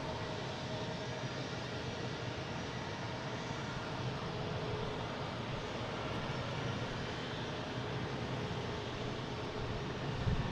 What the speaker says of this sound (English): Over the A340.